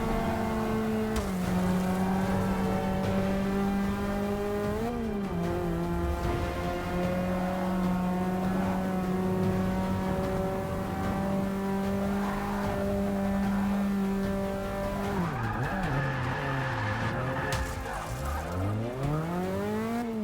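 A car in Forza Motorsport 6 drifts and skids under handbrake, its engine droning and shifting pitch continuously while tires squeal, closing with a rising screech and rev.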